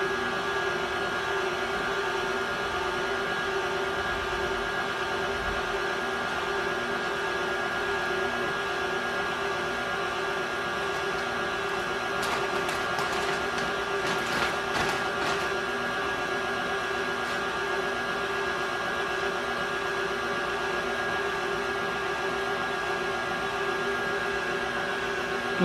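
An electric mixer whirs steadily and continuously as it beats pound cake batter, a constant droning hum with brief rattling bursts partway through and no talking.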